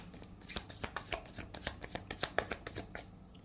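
A deck of tarot cards being shuffled by hand, with a quick run of crisp riffling flutters and soft slaps at close range and no talk over it.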